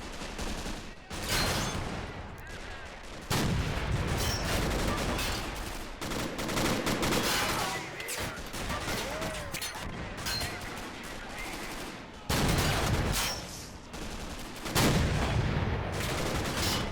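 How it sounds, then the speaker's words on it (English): Anti-tank rifles firing at tanks in the video game Men of War: Assault Squad, amid a dense, loud battle din of continuous gunfire and explosions with sudden swells and dips in intensity, no speech. "Now's the AT rifles' time to shine."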